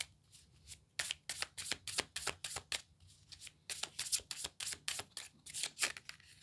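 Tarot cards being shuffled for a reading, a close, soft run of rapid riffling bursts in an irregular rhythm with brief gaps, and no talking.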